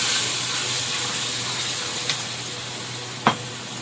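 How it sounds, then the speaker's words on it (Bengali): Ground cumin and other powdered spices fry in a pan with a steady hiss of sizzling oil, broken by a couple of sharp splashing bursts, close and fairly loud. "জিরে গুঁড়ো ভেজে নেব সব এক এক করে গুঁড়ো মশলাগুলো এর মধ্যে দিলাম"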